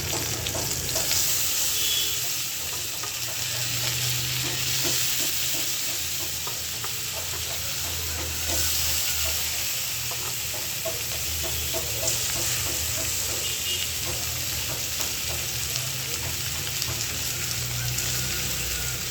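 Lentils added to hot fried onions sizzle and hiss steadily in the pan, with occasional scraping and stirring taps, a continuous close frying sound with no talk.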